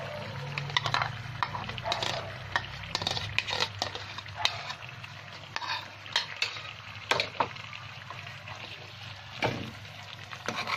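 A spoon stirs cashew-almond paste into chicken korma in a pan, with soft scraping and clinking strokes at an irregular rhythm over a quiet, steady low sizzle.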